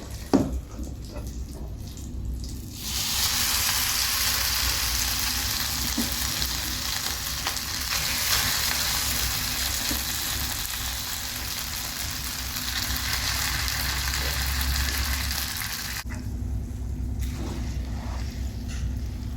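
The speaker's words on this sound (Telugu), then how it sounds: "ఇప్పుడు తాలింపులో వేసేసుకోవాలి పొంగల్ అంతా కూడా" Loud steady sizzling and frying as cooked pongal is stirred into a hot tempering in a pan, beginning after a few quiet seconds and stopping abruptly near the end.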